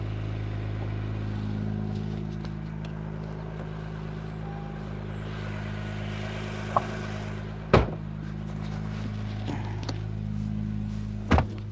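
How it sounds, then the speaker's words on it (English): An Acura NSX Type S engine hums steadily at a low idle throughout, with a few sharp clicks and thumps standing out near the end. "pay attention to the engine sound"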